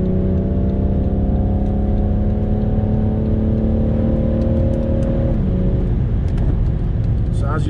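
A 2016 BMW 640d Coupe diesel engine drones loudly and steadily from inside the cabin while accelerating in sport mode on the German Autobahn, its pitch holding then dropping as it shifts, with a voice speaking over the noise.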